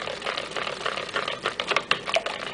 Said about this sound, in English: Alright, so I'm just whisking this in.